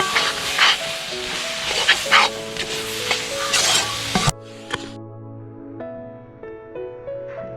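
Masala being stirred and fried in a pan for oonjal chicken: a close, busy sizzle with scraping stirs for about four seconds, then it stops and music carries on alone.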